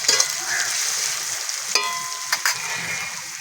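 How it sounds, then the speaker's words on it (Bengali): Garlic fries in a pan for a Bengali mutton curry, with a bright close sizzle and a couple of sharp utensil clinks and scrapes over a few seconds. "রসুনটা ভালো করে ভেজে নিয়েছি।"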